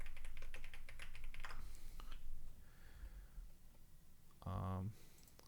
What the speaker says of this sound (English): We'll type in service provider.